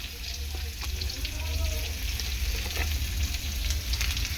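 Papaya pieces fry in a pan with a steady close sizzle and occasional stirring clicks, continuous and fairly loud throughout, no speech.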